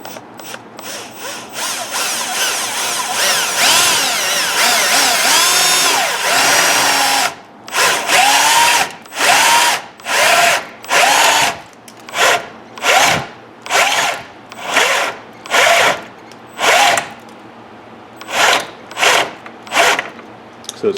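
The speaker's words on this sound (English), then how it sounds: "I put a piece of tape on this step drill bit. And I'm going to go ahead and drill this right over here." A step drill bit bores a hole for a fan grommet during a dual electric fan install, first a long continuous whine, then a run of short repeated bursts as the trigger is pulsed, loud and close.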